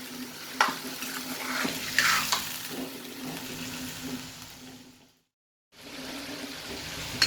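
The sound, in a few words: chicken frying in a pan for karahi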